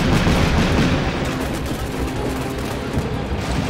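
A BTR lays down covering fire in the wargame Combat Mission Shock Force 2, a dense, continuous rattle of gunfire and distant blasts filling the whole stretch.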